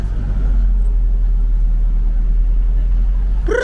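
A man drives a car on Sabtang Island, Batanes, with a steady low engine rumble and road noise throughout, and a brief voice at the very end.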